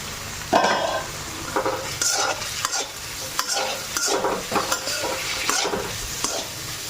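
Onion and peas stirred and fried in a pan, with a steady close sizzle broken by repeated scraping stirs of a utensil, and no talking.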